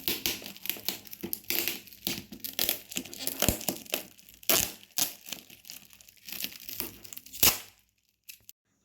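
Gift wrapping paper being torn and crumpled open by hand, a dense run of close crinkling rips and crunches that stops abruptly near the end.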